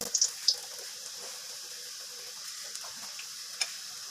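Snacks frying in hot oil and stirred with a spoon, a steady soft sizzle throughout with a few light clinks of the spoon near the start and one later.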